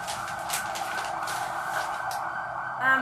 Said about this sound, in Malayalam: ആംബുലൻസ് ആണ്.